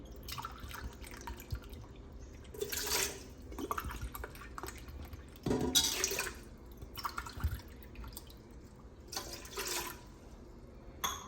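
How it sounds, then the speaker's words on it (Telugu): Four glasses of water poured into a plain pressure cooker while cooking rice, heard as intermittent splashing and dripping bursts at moderate volume with quiet gaps between pours, no talking. "కుక్కర్లో 4 గ్లాసులు నీళ్ళు పోసుకొని"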